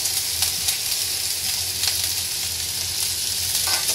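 Cooked rice stir-fried in a hot pan for fried rice, a steady loud sizzle throughout with faint scraping strokes of a spatula, no voices.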